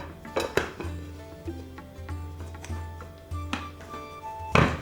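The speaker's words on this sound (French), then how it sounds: "Donc on va retourner notre gâteau." Cake being turned out of its baking pan, bright metallic clanks and clatters of pots and utensils at the start, middle and end, with a low steady hum running throughout.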